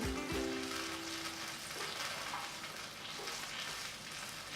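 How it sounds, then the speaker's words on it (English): Tamarind paste, sugar and fish sauce sizzle as they are stirred in a hot pan for a Pad Thai sauce, a dense, steady frying hiss with a brief tonal clink near the start. "So just gonna give it a stir until it starts to dissolve all of the sugar."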